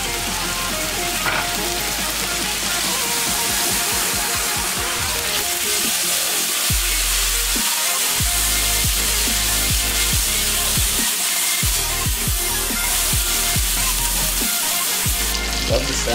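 Steady loud sizzling and crackling of butter frying in a hot pan, continuous throughout, close up.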